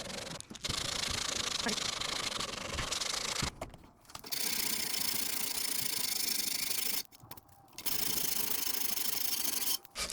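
Sanding across a marble-top dresser during restoration, a steady loud rasping rub that runs continuously with two brief pauses, no talking.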